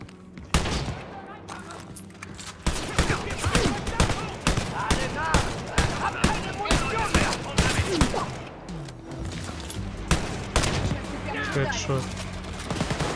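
Shotgun fire in the first-person shooter Wolfenstein Youngblood during close-quarters combat: repeated loud blasts in quick succession over a busy bed of battle noise, with voices mixed in.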